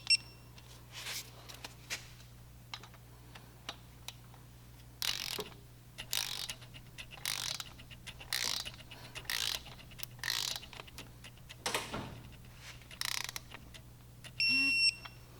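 Torque wrench tightening the pinion sprocket bolt on a Harley-Davidson M8 engine, sounding as a series of short, close ratcheting bursts with pauses between them over a faint steady hum, ending in a few small electronic beeps.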